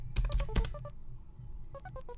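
Computer keyboard typing inside the Buddy Simulator game, heard as a quick burst of close, crisp key clicks, a pause, then a second short flurry of taps near the end.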